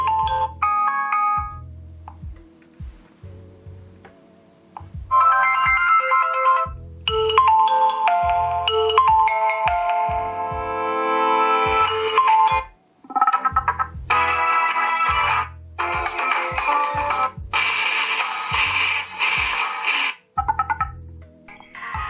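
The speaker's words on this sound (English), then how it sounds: "You can see this speaker on the back is unusually large, which produces a very loud ringtone" A loud ringtone plays from the unusually large rear speaker of a Ruggex Rhino Core 4G rugged Android phone: a sustained melodic tune with rhythmic low beats and bright chiming bursts, filling the whole stretch with no talk.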